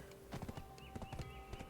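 A horse's hooves clip-clop in the video game Black Desert Online, a quiet, steady run of overlapping hoofbeats over a constant tonal background hum.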